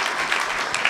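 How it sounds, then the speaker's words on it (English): Audience applause at a brigadier general's promotion ceremony, following a cadet's national anthem performance: a dense, steady burst of clapping from a crowd, close and fairly loud throughout the brief moment. "How about a round of applause for Cadet Thorson on that amazing national"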